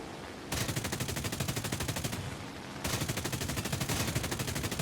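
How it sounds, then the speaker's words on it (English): SAAB 21 aircraft guns firing in the War Thunder video game, two long rapid bursts of steady machine-gun fire, loud and close with a short pause between them. "Oh, I love the guns on this. They're so goddamn good."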